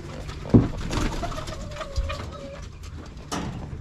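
Pigeons kept on a backyard farm in California give soft, low cooing calls close by, mixed with a few sharp knocks and rustles, with no talk.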